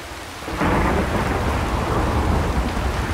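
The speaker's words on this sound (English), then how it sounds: "A storm, damn it." Thunderstorm in The Witcher 3: Wild Hunt, a sudden surge of heavy rain hiss and deep rolling thunder that starts after a brief quiet moment and stays loud and steady.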